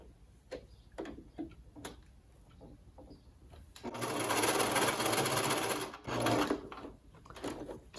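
A sewing machine sews a washable children's fabric face mask, with scattered clicks and handling noises first, then a loud continuous stitching run that pauses briefly and restarts for a short burst.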